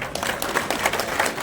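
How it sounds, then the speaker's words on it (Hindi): Short burst of crowd clapping at an INLD-BSP alliance office inauguration in Narnaund, a dense, fairly close patter of hands lasting just over a second. "जोरदार तालियां दे"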